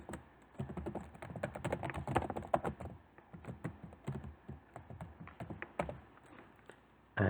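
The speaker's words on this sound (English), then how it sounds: "I'm going to start by typing the title." Rapid bursts of typing on a computer keyboard, close and clear, with uneven clusters of key clicks and brief pauses, no talking.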